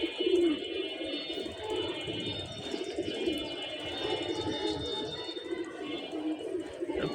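A pair of Jabra pigeons, ash-eyed cock and hen, coo in a loft amid a faint bed of other birds, with low murmuring coos under steady background hiss and a high tonal whine.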